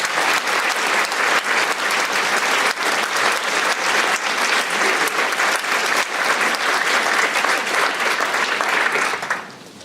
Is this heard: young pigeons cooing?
no